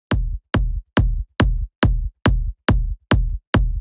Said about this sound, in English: There is a major giant kick drum that's driving this whole song